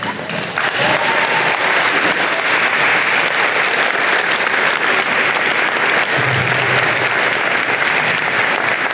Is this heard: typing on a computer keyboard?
no